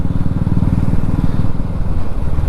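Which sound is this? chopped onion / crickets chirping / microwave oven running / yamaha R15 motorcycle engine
yamaha R15 motorcycle engine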